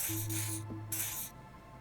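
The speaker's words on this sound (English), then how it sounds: "He douses you with the odd-smelling spray" An odd-smelling spray is doused on the armpits in the Disco Elysium video game, coming as two short, close hissing bursts separated by a brief pause.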